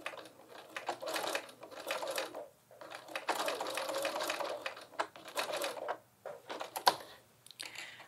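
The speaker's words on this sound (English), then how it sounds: "I'm just gonna sew straight down and do a little bit of back stitching just to reinforce it." Sewing machine running straight down a tote bag strap with short back stitches, quick rattling bursts of stitching separated by brief pauses, close and fairly quiet.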